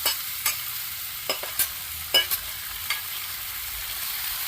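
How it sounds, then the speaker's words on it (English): Potatoes and onions with butter, salt and pepper fry in olive oil on a grill, a constant hiss broken by several sharp clacks of a utensil spreading them out. "We're going to spread this out and let these fry a little bit"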